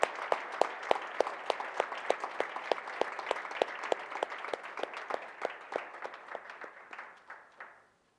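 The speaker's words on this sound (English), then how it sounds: "so we can give them a big round of applause for their hard work." A round of applause at a business meeting for recognized teachers: crisp, evenly spaced individual claps over a dense bed of clapping, which gradually thins and fades out near the end.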